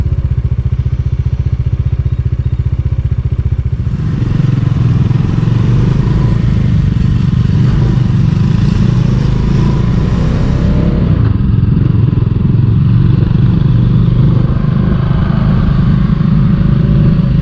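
A motorcycle rides a rough mountain road in Bhutan between Thimphu and Phuentsholing, its engine droning loud and close throughout, with rattling and thumping from the bumpy surface and a heavier rumbling stretch partway through.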